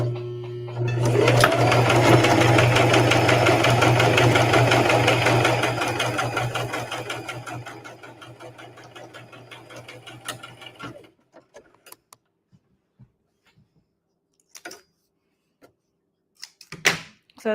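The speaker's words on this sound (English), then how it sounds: "turn y'all to my sewing machine so y'all can see" A sewing machine runs a stitch across the top of a small keychain wallet: a loud, steady mechanical whirr with a rapid needle clatter for about ten seconds, then it stops and a few faint clicks and handling sounds follow.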